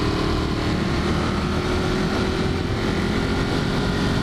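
A Ducati Monster 1200 motorcycle engine holds a steady, loud, rough drone throughout, revving hard with no break and no talking.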